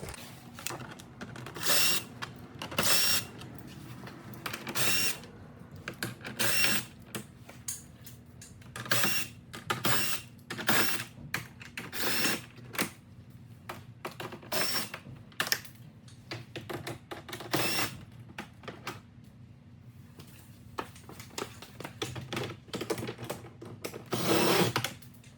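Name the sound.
7 millimeter socket removing front chin spoiler fasteners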